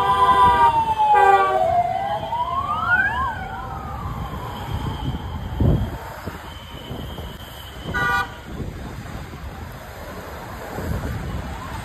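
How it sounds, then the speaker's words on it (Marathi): Sirens wail from a politician's convoy, a deputy chief minister's motorcade passing along a potholed Pune road, with rising and falling tones and horn toots over traffic noise in the first few seconds before fading into street rumble. "उपमुख्यमंत्र्यांचा कॅनवाय पास झाला आणि इथं खड्डा पडलाय बघा।"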